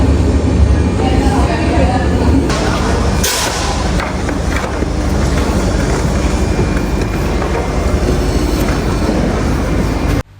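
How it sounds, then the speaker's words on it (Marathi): Loud train station ambience at Basel SBB in Switzerland, with a rumbling train, rolling wheels and clatter filling the space steadily, and voices mixed in. "आम्ही आता उभे आहोत स्वित्झर्लंडमधल्या बासल SBB या ट्रेन स्टेशनवरती"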